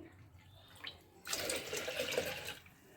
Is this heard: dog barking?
no